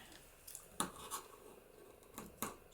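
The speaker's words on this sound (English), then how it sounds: "So I'm going to just trim this tulle down." Scissors snip through tulle fabric during papercraft shaker tag making, a few sharp, brief cuts spaced irregularly, close and fairly quiet with no talking.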